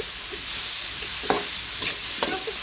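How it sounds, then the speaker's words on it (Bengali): Potatoes frying in oil with salt and turmeric make a close, steady sizzle, with a few soft scraping stirs of a spatula at irregular moments. "এটা আমি এভাবে একটু তেলের ভিতর ভেজে নেব"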